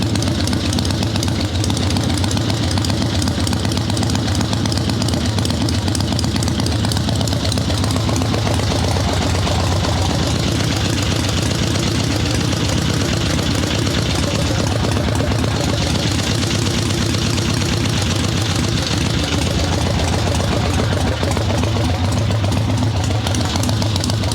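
A swap meet chopper motorcycle engine idles loud and close during carburetor tuning, a continuous deep rumbling throb that holds steady for the whole stretch.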